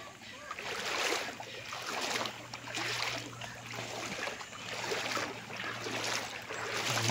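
A river running beside a farm lot in Calauan, Laguna, a steady broadband wash of flowing water that holds at an even level throughout, with a low continuous hum underneath.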